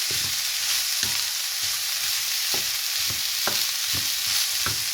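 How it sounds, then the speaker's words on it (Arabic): Minced meat fries with onions in a pan, a steady dense sizzle running throughout with several sharp spoon-against-pan clacks as it is stirred, close and fairly loud with no talk. "قربت تتعصج اللحمه مع البصل"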